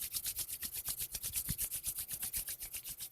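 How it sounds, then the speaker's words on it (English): Palms rubbed briskly together during a Kundalini yoga practice, a close, steady run of rhythmic dry swishing strokes, about six per second, heard alone without talk. "Rub the palms together."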